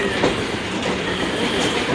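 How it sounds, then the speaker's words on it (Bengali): Train pulling out of Baliwal station, a close, steady rolling rumble of wheels on rails with rhythmic clickety-clack and a faint squeal, with no voices. "তো গাইজ আমাদের ট্রেনটা আবার ছেড়ে দিয়েছে বালিওয়াল থেকে"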